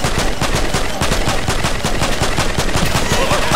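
Rapid automatic gunfire in a first-person shooter game, loud and continuous bursts of shots filling the whole stretch with no talking over it.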